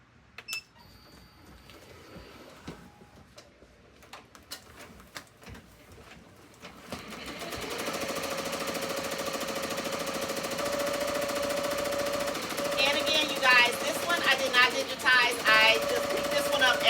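An embroidery machine stitches a pink design onto a jacket, starting with scattered handling clicks, then settling into a steady, fast mechanical stitching whir with rhythmic chatter nearby.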